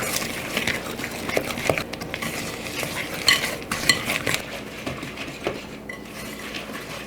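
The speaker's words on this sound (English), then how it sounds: "And just mix these together till they're nice and combined." A spoon or whisk mixing coconut sugar and honey together in a bowl, with steady scraping and clinking against the sides, close and continuous with no talk.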